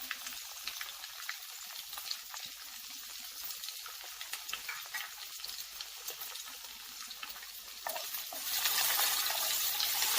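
Okra with salt frying in a pan over high heat, a soft steady sizzle that grows louder and brighter toward the end, no speech.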